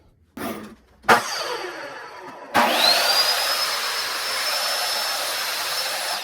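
A repaired, secondhand miter saw motor powers up with a loud, steady whine that holds at full speed, preceded by a couple of short bursts.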